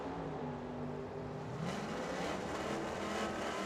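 Distant drag race at Firebird Motorsports Park: a Plymouth Roadrunner chasing a Ford Mustang, engines droning steadily with a rising whine as they accelerate down the strip, no talk heard.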